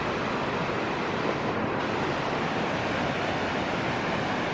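Rushing river rapids on Crown land wilderness, a steady broadband roar of churning water that holds constant and close throughout, with no voices.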